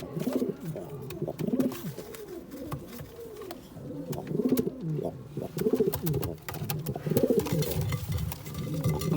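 Pigeons coo repeatedly in low, rolling phrases close by, several birds overlapping in a steady rhythm with faint chirps and scattered clicks and rustles in a loft.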